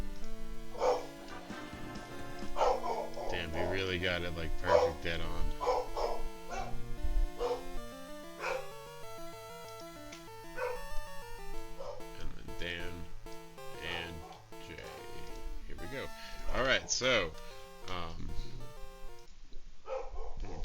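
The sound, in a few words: dog barking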